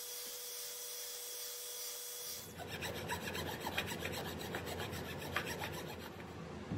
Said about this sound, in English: I like to file down the center of that half lap joint